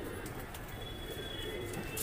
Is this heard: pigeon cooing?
yes